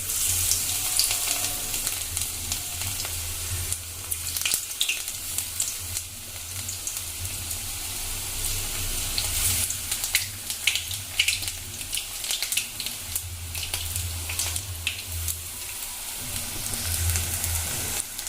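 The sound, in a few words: frying onion fritters (piyaji) in oil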